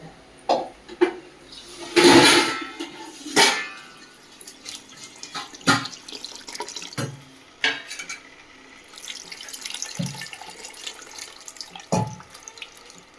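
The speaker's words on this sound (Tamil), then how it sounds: "அடுத்தது புளியை கரைச்சி ஊத்தணும்." Dissolved tamarind water splashes and pours into a fish curry pot in several uneven gushes and trickles, with a strong burst early on and smaller splashes later, close and fairly loud.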